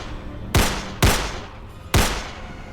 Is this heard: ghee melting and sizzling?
no